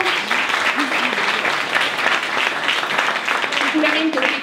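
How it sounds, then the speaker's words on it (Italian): Applause for a bishop at a church gathering, steady dense clapping through the whole stretch with a voice briefly audible over it. "Un applauso al nostro caro Vescovo."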